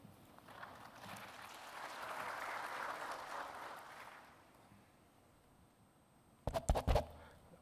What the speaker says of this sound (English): A round of applause for Dr. Hamadoun Touré